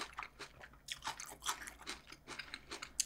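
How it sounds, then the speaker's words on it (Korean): Crisp, crunchy bites and chewing of a fresh tomato during a Korean mukbang meal of rosé pasta and steak, a quick run of close, juicy crunches with short pauses between bites, no talking. "근데 이 토마토 너무 아삭거리고 맛있다."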